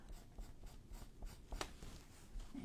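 A pen scratching marks onto paper for a junk journal cover, close soft strokes in a steady back-and-forth rhythm with one sharper tap, with no voice over it.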